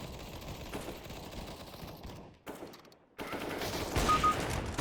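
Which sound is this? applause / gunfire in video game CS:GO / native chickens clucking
gunfire in video game CS:GO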